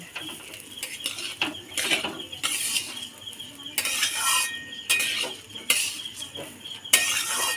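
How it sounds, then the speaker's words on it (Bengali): Rice being fried and stirred in a pan for Basanti pulao, with steady scraping and stirring strokes over a soft sizzle, recurring in rough bursts close to the microphone and no talk. "চালটা দিয়ে ভালো করে ভেজে নেব।"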